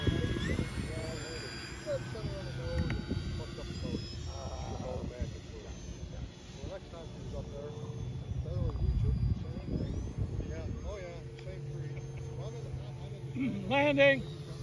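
E-flite RC model airplanes, a Turbo Timber Evolution 1.5m and a Carbon Z Cessna 150T, take off in formation, their electric motors whining and shifting in pitch at a moderate distance beneath steady wind noise and voices.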